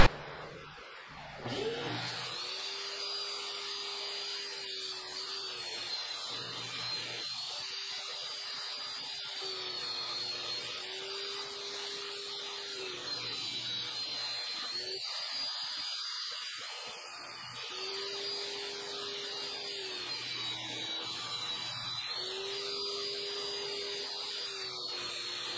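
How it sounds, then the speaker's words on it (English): Table saw ripping four boards into 3.5-inch strips, a steady loud whine running throughout with repeated passes marked by rising and falling cutting tones, no talk. "I'm gonna take them over the table saw now and finish them up"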